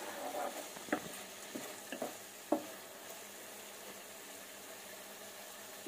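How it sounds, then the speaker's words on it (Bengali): Momos frying in a pan with chilli garlic sauce, a quiet continuous sizzle with a few clicks and knocks of stirring near the start, then a steady low hiss alone. "ভালো করে মিশিয়ে মোমোর সঙ্গে আমি এটাকে ফ্রাই করে নিচ্ছি।"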